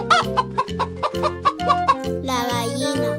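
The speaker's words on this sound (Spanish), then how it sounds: "La gallina." A hen clucks in a quick run of short, evenly spaced notes, then lets out a longer drawn-out squawk, loud and close with no talk.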